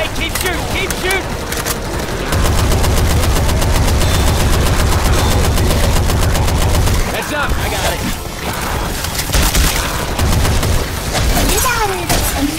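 Heavy video game gunfire from Genshin Impact, with sustained rapid automatic bursts and scattered single shots. Excited voices shout over the loud, near firing.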